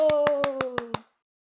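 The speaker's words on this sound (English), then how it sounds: "More applause!" Six sharp claps in a steady rhythm, close and fairly loud, over a sustained tone, then silence.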